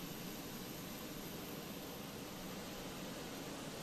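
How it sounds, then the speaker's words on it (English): Steady broadband roar of a small jet aircraft engine idling nearby on the apron in a flight simulator, heard alone as a constant even hiss-like rumble without talk. "This little jet thing behind me."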